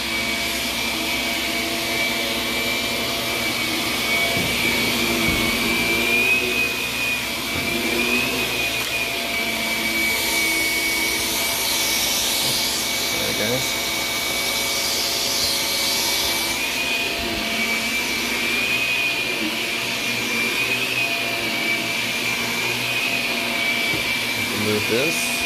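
A carpet cleaning machine runs continuously on carpeted stairs during a large cleaning job, a loud steady motor whine and airflow roar holding throughout with slight shifts in pitch as it moves, no pauses.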